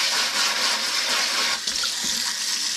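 Tap water runs steadily into a kitchen sink while a microplane grater is rinsed under it, a loud, close, continuous splashing with a brief shift midway.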